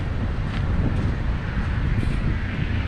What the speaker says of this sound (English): It's windy as they come, so hopefully you guys can hear this okay.